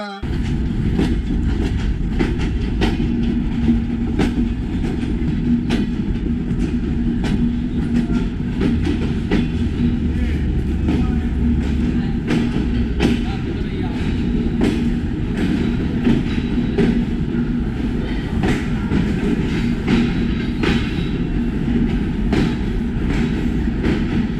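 The Sundarban Express on the Khulna–Dhaka line pulls into Jessore station with a loud, continuous rumble, rapid clickety-clack from the wheels and faint wheel squeal that runs steadily throughout.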